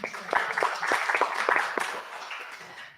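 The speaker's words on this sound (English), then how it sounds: "Give yourselves a round of applause." A scattered round of applause from a small in-person audience at the close of an evening author talk, a handful of distinct claps that soon thin out.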